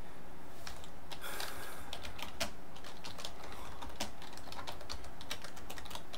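A computer keyboard typing a Python command, rapid close key clicks in uneven bursts with brief pauses, no voices.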